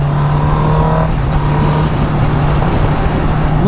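Honda CBR Fireblade 1000 motorcycle engine held near its 13,000 RPM redline, a loud, continuous high-pitched drone that stays steady throughout, with no talking.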